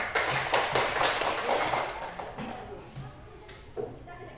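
A class of children claps for a classmate's correct answer, a quick burst of small, scattered hand claps that starts busy and thins out to a few last taps, fairly quiet in the room.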